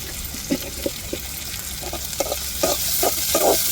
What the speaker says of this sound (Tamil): இப்போ வெங்காயத்தை நல்லா வதக்கி வச்சுக்கிடுவோம்